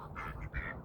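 Ducks, one with a broken wing, quack near a pond in quick, raspy calls that sound close and fairly loud, with no talking.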